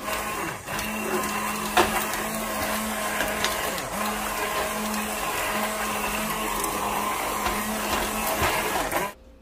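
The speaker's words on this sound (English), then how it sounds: "we will blend them" A blender blending boiled soup whirs steadily for about nine seconds, a continuous motor drone with slight wavering pitch, then cuts off abruptly at the end.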